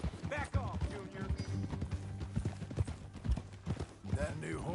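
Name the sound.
horse hooves clip-clopping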